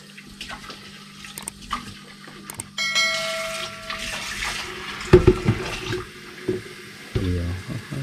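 Tap water runs and splashes intermittently in a home kitchen or bathroom, with bursts of flow between pauses, fairly close, while people talk nearby.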